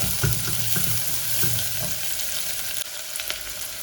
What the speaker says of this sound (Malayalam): ഉള്ളി ഒന്ന് ചെറുതായിട്ട് വഴണ്ട് വരുമ്പോഴേക്കും